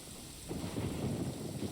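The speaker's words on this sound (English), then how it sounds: "It's thundering." A video game thunderstorm: a low rolling rumble of thunder swelling up over steady rain hiss, with no talk.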